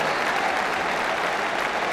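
Steady applause from a large tennis crowd at Roland-Garros during the 2013 men's semi-final between Nadal and Djokovic, a dense even wash of clapping with no talk on top.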